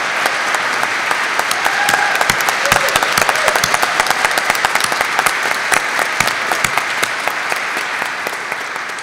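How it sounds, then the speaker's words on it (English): A seminary Christmas concert audience claps for the choir and its director, a loud, crisp round of applause with sharp individual hand claps standing out, tapering slightly toward the end. "how about another round of applause for Dr. Nathan Knutson and the St. Charles Borromeo Seminary Choir?"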